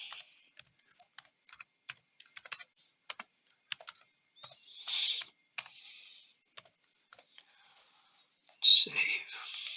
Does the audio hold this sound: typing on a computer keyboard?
yes